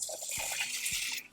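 Goulash sauce simmering in a pot with noodles, giving a steady wet hiss with a couple of soft low pops, close and fairly loud, with no talking.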